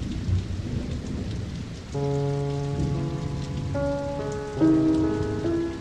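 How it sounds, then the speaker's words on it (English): Heavy driving rain pours steadily as a broad, continuous hiss, with a music score of sustained tones rising over it partway through and no voices. "The next day, Napoleon came to see her in the driving rain."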